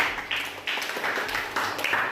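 A small group claps for group 3 in a classroom, a short burst of steady, fairly close applause lasting a couple of seconds.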